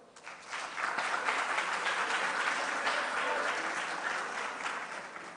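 An audience at a Ghanaian school quiz grand finale applauds Adisadel College, steady dense clapping that swells quickly and holds evenly for several seconds before tapering slightly.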